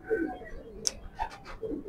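Racing pigeons coo close by in several short, throaty bursts spaced across a couple of seconds, with faint chirps in between.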